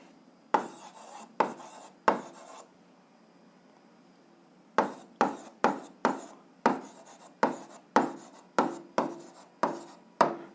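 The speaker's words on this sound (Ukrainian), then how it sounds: "Ну що ж, записуємо відповідь, пишемо відповідь." Pen scratching on paper while an algebra answer is written out, short rhythmic strokes in two bursts separated by a quiet pause, close and fairly crisp, with no talking.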